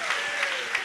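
A church congregation claps together in a dense, continuous wash of applause during a worship service, a sustained tone sounding beneath it.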